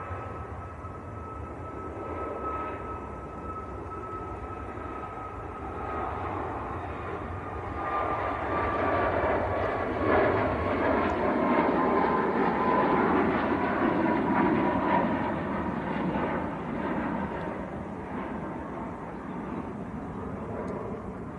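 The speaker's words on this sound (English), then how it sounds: "Ryanair on the roll. Ryanair to Malaga." A Ryanair Boeing 737 MAX, Maltese-registered, taking off from Manchester Airport, a continuous jet roar that swells toward the middle and holds steady, heard from a distance.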